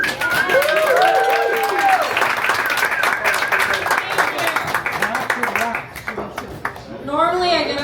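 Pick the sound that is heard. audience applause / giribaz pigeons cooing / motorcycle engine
audience applause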